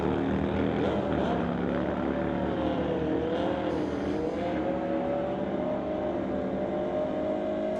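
A 2001 Harley motorcycle drag racing down the Lordco lane at a street-legal drag event, its engine droning steadily and loudly throughout with a rising whine, a second racer alongside and an announcer talking over it.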